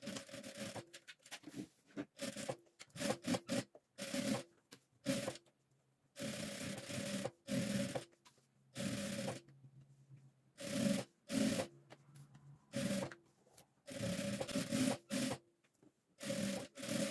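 A sewing machine stitches around the edge of a rug made from fabric scraps, running in short bursts of fast, close whirring separated by brief pauses, with no talking.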